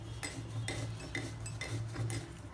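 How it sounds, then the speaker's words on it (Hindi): Spices being ground by hand on a traditional Indian stone slab (sil) for Konkani masala and chutney, with repeated scraping, knocking strokes in an even rhythm, close and fairly quiet. "मैं सील पे पीस रही हूँ।"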